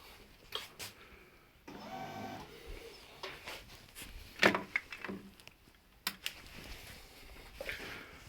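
A printer powered by a 12V-to-220V pure sine wave inverter whirs and clicks in short mechanical bursts and thumps, stopping and starting irregularly, quiet and close, with no talking.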